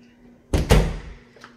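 A linen closet door in a house handled during a walkthrough, giving two quick close thuds in succession followed by a fading rattle and a faint knock, with no talk.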